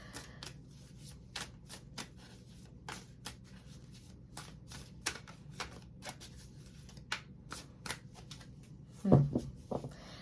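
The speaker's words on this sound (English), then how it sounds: "I'm going to shuffle these cards." Oracle card shuffling up close: a run of quick, crisp riffling bursts with short gaps between them, ending in a slightly louder clatter as the deck is squared.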